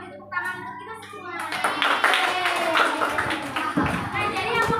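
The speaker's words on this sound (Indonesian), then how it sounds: "Jadi ayo kita beri tepuk tangan untuk kita semua." A class of fifth-grade children clapping their hands together in an Indonesian classroom lesson, with a voice talking at the start before the clapping swells into a brisk, lively burst that continues to the end.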